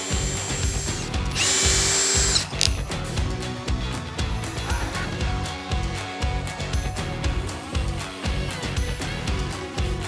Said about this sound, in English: That is a nifty pilot hole drill.